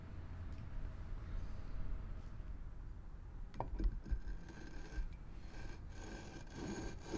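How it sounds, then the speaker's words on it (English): Lapping compound worked by hand between the mating surfaces of a crankshaft and flywheel on a Tillotson 225cc engine build, giving a steady close gritty rasping and rubbing that runs throughout, with a few sharper scrapes midway. "work this lapping compound all the way around to where both surfaces that touch, crankshaft and flywheel, went from smooth to dull, or shiny to dull"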